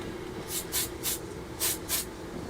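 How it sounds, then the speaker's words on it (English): A spray paint can applies white paint to a part of a 1/48 Hasegawa F-22 Raptor model kit in five short, close hissing bursts separated by brief pauses over a quiet background. "I'll spray paint this one white."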